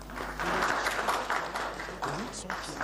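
Applause from a crowd at a state ceremony during a presidential working visit in the DRC, a steady patter of clapping under a voice speaking French.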